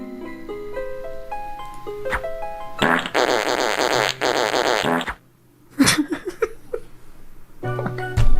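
Cartoon fart sound effects, a loud buzzy blast lasting a couple of seconds, a sudden silence, then sputtering squeaks and rising toots, with sliding comic tones in between.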